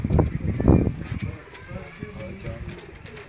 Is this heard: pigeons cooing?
yes